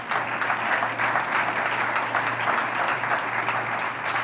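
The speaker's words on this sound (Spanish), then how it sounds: "Un aplauso al Señor." Steady, dense applause from a church congregation during a Spanish-language sermon, sustained evenly throughout with no voices on top.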